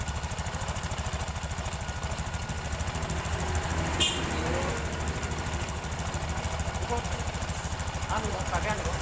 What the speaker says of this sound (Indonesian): RPM-nya sudah saya besarkan supaya kita tidak pegang gas